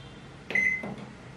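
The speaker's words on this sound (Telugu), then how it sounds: "ఇప్పుడు దీన్ని మైక్రోవేవ్లో 2 minutes బేక్ చేద్దాం." A microwave oven being set to bake a vanilla eggless mug cake gives a short, clear electronic beep followed by a brief click or hum, close and fairly quiet in an otherwise still room.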